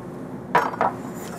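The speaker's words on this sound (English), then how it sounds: "I'm using the whisk because it's the best tool to really incorporate and make a nice smooth sauce" A metal whisk works a thickening sauce in a pan as evaporated milk goes in, giving two short scraping clinks close by against a quiet room with no talk.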